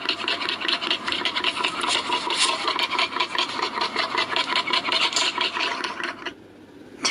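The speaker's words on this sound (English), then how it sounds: "Warthog." A warthog grunts and rasps in a rapid, rhythmic series of rough, scraping snorts, loud and close, continuing for about six seconds before stopping abruptly.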